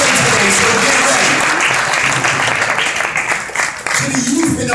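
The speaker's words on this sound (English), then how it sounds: "So I want you to give all of our elders a strong, strong hand." An audience at a Black History Month flag raising gives the elders a loud, steady round of applause, with dense clapping filling the whole stretch without a break.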